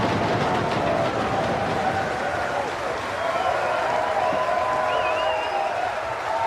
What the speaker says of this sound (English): these are the stomps that terrify him